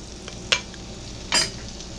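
Rice-A-Roni skillet supper browning in a skillet, a soft low sizzle broken by two short, close stirring scrapes.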